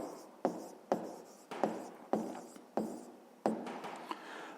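A pen writes on paper while a fifth-grade math exercise is worked through, making a close, even rhythm of scratchy strokes, each starting sharply and trailing off, with no talking.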